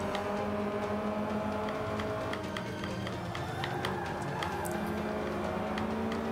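In Forza Motorsport 5, a race car engine roars steadily while drifting, with sustained high revs and faint tyre squeal across the whole stretch, and a bit of talking mixed in.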